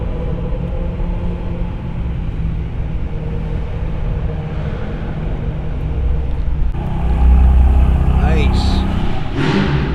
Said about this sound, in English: I think my car is the loudest E92 that was here today.